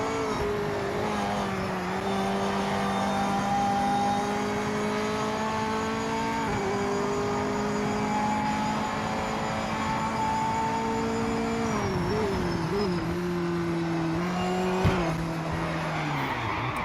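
A GT3 race car in Project Motor Racing holds a steady, loud engine drone through long sustained revs, with pitch shifts at gear changes and a few tire squeals and lurches near the end.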